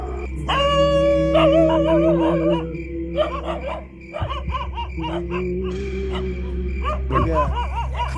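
Several dogs howl and bark together, long sustained howls rising and falling over a steady low hum, joined later by sharper yelps and overlapping cries near the end.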